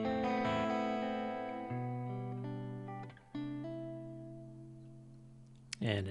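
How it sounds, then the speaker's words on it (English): Electric guitar run through a Neunaber Illumine reverb pedal set to a small, short reverb; sustained chords ring and decay with a brief tail, a second strum around three seconds, then a bright pick scrape near the end. "at heel down, I want it to be a little smaller sounding reverb."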